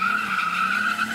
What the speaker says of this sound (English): Also rather handy if you want to do some drifting.